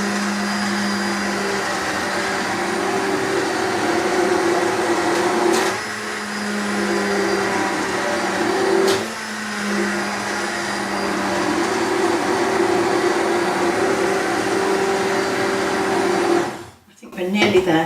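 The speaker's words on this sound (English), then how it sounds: "Now we're going to blend this until all the lumps have gone" A stick blender whirs steadily and loudly for a long stretch, blending tomato soup with vegetables, with small dips in pitch as it churns, before cutting off near the end.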